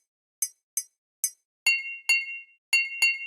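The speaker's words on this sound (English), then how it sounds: "they almost sound like somebody tapping on glass with something metallic" A percussion sample resembling metal tapping on glass gives clean, bright clinks, three short and evenly spaced taps followed by four longer ringing hits with a sustained tone, alone against silence.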